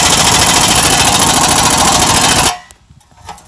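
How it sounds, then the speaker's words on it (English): A dense, loud mechanical rattle from an air-powered tool driven by a filled-up air compressor pushes a ball joint into a Toyota Tundra, running hard for about two and a half seconds, then cutting off to quiet shop noise. "the compressor's all fired up and powered up and filled up"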